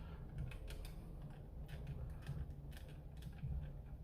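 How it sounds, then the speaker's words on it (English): A small screw is turned out of a plastic Nerf Rival Kronos blaster, giving faint, close, irregular creaks and ticking clicks over a low background hum. "We're going to unscrew this screw right here."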